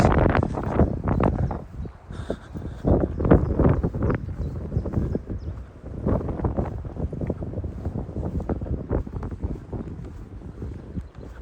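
Gusty wind at an arboretum in the Cotswolds buffets a nearby microphone, producing loud, uneven low rumbles and roaring bursts that rise and fall throughout.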